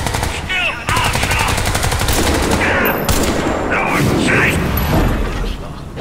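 Unsilenced automatic gunfire in the video game Crysis 3, loud sustained bursts of rapid shots dominating the scene, with someone talking over the shooting.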